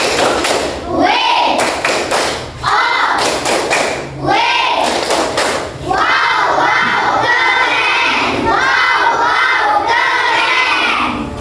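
A school class claps a patterned rhythm together, short clusters of sharp claps repeated several times, with children shouting along between the bursts.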